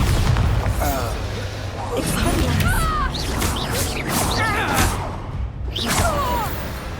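The Bombarda explosion spell from the video game Hogwarts Legacy goes off in loud booming blasts mixed with swooshing effects, with voices talking over the action.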